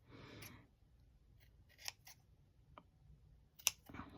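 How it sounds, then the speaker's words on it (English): Large scissors snip through craft material for a small antler piece on a holiday gnome craft: a handful of crisp, close cutting sounds spaced irregularly in a quiet room. "I'm actually going to use my big scissors, just because I can get right up there, and I know it's going to cut right through"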